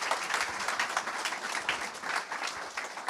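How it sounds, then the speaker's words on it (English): A conference audience applauds, a steady moderate round of clapping from many hands that carries evenly for a few seconds with no voices above it. "Please do join me by giving a round of applause to Sanya and Gabriele already for being with"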